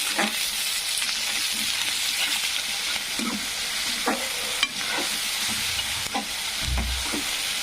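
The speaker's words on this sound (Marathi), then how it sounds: "हिरवी मिरची नंतर आपल्याला टाकायचं आहे अद्रक, कोथिंबीर, अद्रक आणि लसूण याची पेस्ट टाकून घेऊ।" Steady close sizzle of frying green chili, ginger, coriander and garlic paste in a pan for pulao, with occasional stirring clinks and scrapes and no talking.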